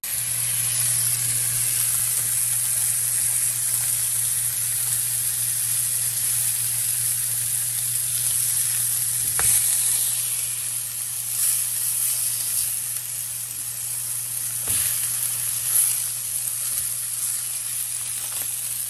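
Sausage patties fry in warmed frying pans, giving a steady, continuous hiss and sizzle that runs the whole time with a low hum beneath and a couple of brief sharp pops.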